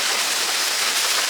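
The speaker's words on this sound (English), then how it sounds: "And there is the secret waterfall of Rishikesh." The secret waterfall of Rishikesh, India, as a steady, dense hiss of falling water, close and continuous with no other sounds.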